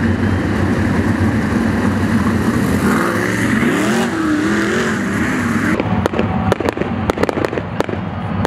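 Methanol-fuelled sprint cars roar together on a dirt speedway at a race start, a loud sustained engine howl with pitch sweeps as they accelerate, then sharp popping bursts toward the end.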